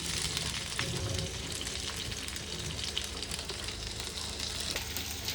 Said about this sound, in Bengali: তাতে এবার দিয়ে দেবো পেঁয়াজ।